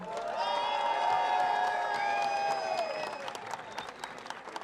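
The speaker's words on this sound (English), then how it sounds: "Big cheer there for that formidable Russia 1 team" A crowd at a medieval combat tournament finals awards ceremony cheers and applauds for the winning team, with whoops and sustained clapping that fades somewhat toward the end, heard from a moderate distance.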